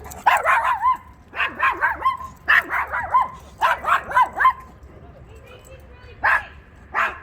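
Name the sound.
small dog barking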